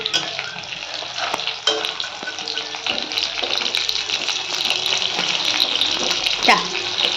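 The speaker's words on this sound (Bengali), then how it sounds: "এই ভোলা মাছগুলো ভাজতে দিয়ে দিয়েছি, এগুলো ভেজে নিই" Small bhola fish fry in hot oil in a pan, giving a dense, loud, continuous sizzle heard up close, with occasional sharp clinks and scrapes throughout.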